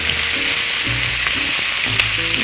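Onions hit hot fat in a pan and sizzle loudly and steadily, a close, bright crackling hiss with a few soft stirring bumps and no voices.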